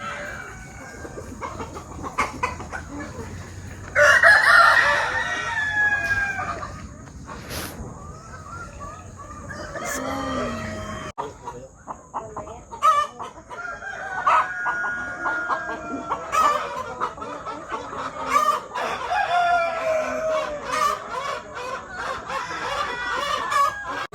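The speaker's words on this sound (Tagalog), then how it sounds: "Para sa ating mga manok." Chickens and roosters on a poultry farm in the Philippines, with repeated loud crowing and steady clucking from several birds, some close and some farther off.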